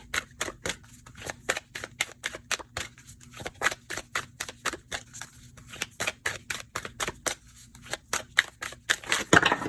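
Oracle cards being shuffled and drawn by hand at close range, a steady run of crisp rapid snaps and flicks with brief pauses, louder toward the end.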